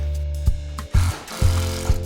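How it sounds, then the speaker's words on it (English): A power drill drives screws into a timber bracket for a roller blind, its motor whirring steadily with several sharp surges and bursts of load as each screw bites into the wood, close and loud. "fasten the screws."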